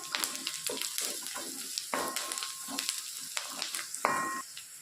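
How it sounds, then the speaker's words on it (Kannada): Garlic fries in a pan for a drumstick-leaf stir-fry, sizzling briskly up close with bursts of stirring and scraping, no voices. "ಬೆಳ್ಳುಳ್ಳಿ ಸ್ವಲ್ಪ ಹಸಿ ವಾಸನೆ ಹೋಗೋ ತನಕ ಹುರ್ಕೊಂಡ್ರೆ ಸಾಕಾಗತ್ತೆ."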